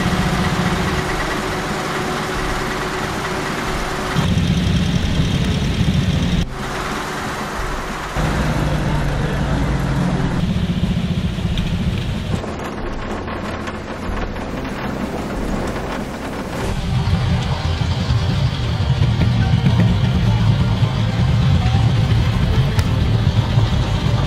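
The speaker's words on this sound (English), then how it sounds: "the vehicles and drivers began their start-up routines and manoeuvred into position for" Military convoy vehicles starting up and manoeuvring into position, dense rumbling engines idling and revving in steady washes that shift in level over more than twenty seconds, loud and close.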